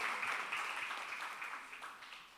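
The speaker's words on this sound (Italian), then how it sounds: "Facciamo un applauso" A church congregation in Verona claps during an evening worship service, a short, dense round of applause that starts full and gradually tapers off over a couple of seconds.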